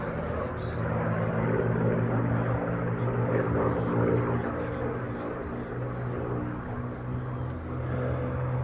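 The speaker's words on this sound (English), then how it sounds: "the Spitfire is being flown today by Flight Lieutenant Andy Priest" Steady propeller drone of a Spitfire and a Hurricane flying at an airshow, a continuous engine hum holding at a moderate distance without letting up.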